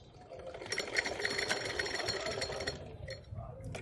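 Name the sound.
sewing machine basting stitches on blouse fabric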